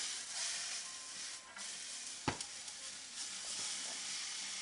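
Bean sprouts and vegetables frying in a pan for a sirloin steak chow mein, a steady loud sizzle and hiss with one brief sharp clatter partway through, no talking.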